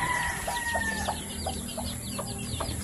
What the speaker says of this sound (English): Here's a nice little chicken family.